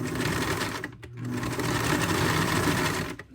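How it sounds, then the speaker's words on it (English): A sewing machine runs loud and close as it stitches a quilt panel onto jeans, a continuous mechanical whir with two brief pauses, no voices. "I'll sew just the top part, and then kind of check the point, and then I'll continue sewing along"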